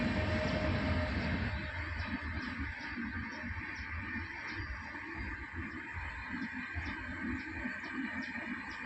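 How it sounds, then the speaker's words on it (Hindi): Train passing close to a house beside the tracks, a steady loud rumble and clatter with rhythmic wheel clicks on rail joints, continuous and near throughout, no voices heard. "ट्रेन आ गया फिरता है, आप आवाज़ सुन सको ट्रेन की।"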